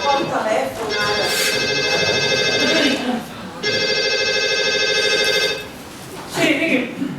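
An office telephone rings in two long electronic bursts separated by a short pause, loud and close, with voices briefly heard before and after the rings.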